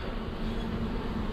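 A dense, steady buzzing of many honey bees swarming close by, continuous and unbroken throughout.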